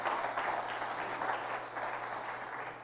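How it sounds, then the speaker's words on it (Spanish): A church congregation applauds steadily, a dense wash of clapping that holds its strength throughout. "Dale fuerte esa ofrenda de palmas al Señor."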